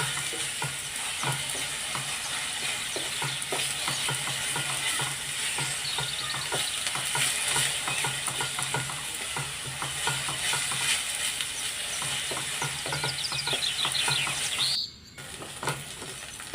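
Onions, ginger and garlic sizzle steadily in a hot pan while a spoon stirs and scrapes through them, a continuous close frying hiss with occasional clicks and faint chirps in the background, no talking.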